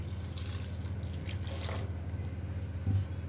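Water pours and trickles into a cooking pot while making homemade rose water, a faint, soft, steady liquid sound that stays close with a few drips and no talking.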